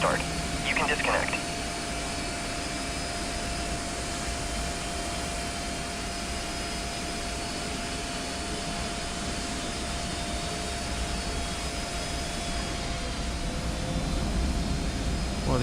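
A TWA Boeing 767-200 jet engine runs in the MSFS2020 flight simulator, giving a steady, even roar with a thin high whine that holds unchanged throughout, plus a brief faint blip near the start.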